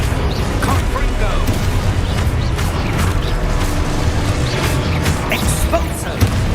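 Confringo blasting spell from Hogwarts Legacy, a continuous low rumbling boom of magical explosions and combat effects that fills the whole stretch, loud and dense with a final sharper impact near the end.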